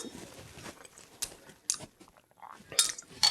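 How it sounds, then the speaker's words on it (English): A utensil stirring Chinese chicken salad dressing with oils in a bowl, giving faint, scattered clinks and scrapes, a few sharper knocks against the bowl standing out among quiet rustling. "let's give it another stir"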